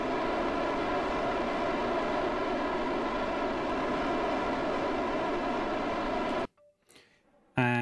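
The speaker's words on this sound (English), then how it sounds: "Sorry about the noise. These engines are noisy." Rocket engines fire in Kerbal Space Program, a steady, loud roaring hiss that holds for about six seconds before cutting out abruptly, leaving near silence with faint clicks.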